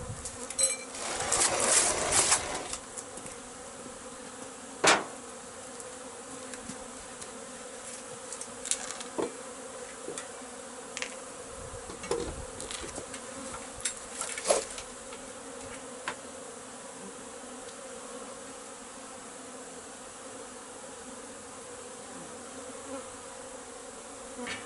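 Honeybees buzz steadily around beehives outdoors, a dense continuous drone with individual bees passing close now and then and a few birds calling faintly in the distance.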